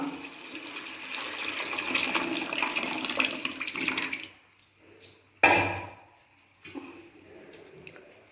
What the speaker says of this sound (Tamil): இந்த புளி சாறை அப்படியே ஆட் பண்ணிக்க வேண்டியதான்.